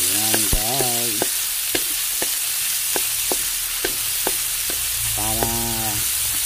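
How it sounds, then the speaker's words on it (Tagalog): Garlic and onion sauté in a pan, a constant bright sizzle broken by repeated sharp spatula clicks and scrapes against the pan, close-up and alone with no talk. "nagisa tayo ng bawang at saka sibuyas"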